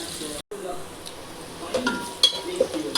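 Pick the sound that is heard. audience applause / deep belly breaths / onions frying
onions frying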